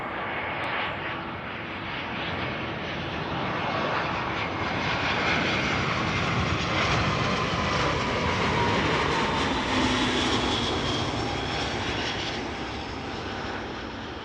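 A Cargolux Boeing 747 in retro livery rumbles with a broad, steady jet engine roar that swells gently and holds for several seconds, moderately distant.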